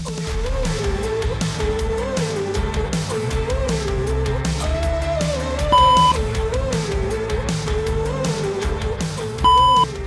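Electronic beeps from a VMA shuttle running test sound twice as short, clear tones set over a loud, continuous music track, spaced a few seconds apart.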